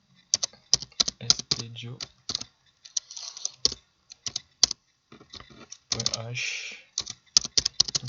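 Typing the header of a C program on a computer keyboard, with quick bursts of close, crisp key clicks separated by short pauses, irregular in rhythm, and someone speaking quietly between keystrokes.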